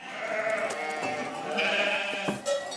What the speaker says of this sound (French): L'heure est venue de trier et de compter les moutons.